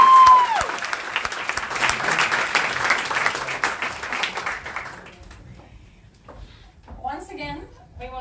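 Applause from the audience fills a hall at an awards ceremony honouring high school students in Sydney, a dense round of clapping that lasts about five seconds, then drops away to quieter room sounds and brief voices.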